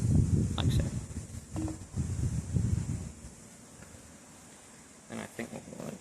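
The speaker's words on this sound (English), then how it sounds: "It's a bit windy." Gusty wind buffets an outdoor microphone while wood is whittled and carved by knife into a tent peg, low rumbling bursts in the first half easing to a quieter stretch, then gusting again near the end.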